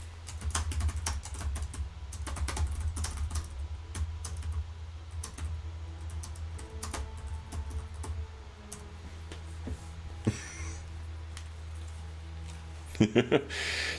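Keyboard typing clicks come through as scattered sharp taps beneath steady voice chat and background hum during an online Pathfinder 2nd Edition tabletop game session, with a few louder clicks near the end.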